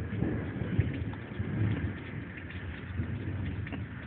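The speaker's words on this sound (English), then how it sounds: "You hear it? You hear that thunder?" Low rumbling thunder from a Texas summer thunderstorm rolls steadily in the background, joined by soft rain-like noise, with no voices.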